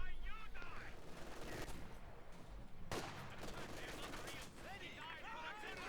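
Heavy machine gun bursts in the World War II strategy game Company of Heroes 2, rapid rattling fire mixed with other battle noise and game effects, running under continuous commentary throughout.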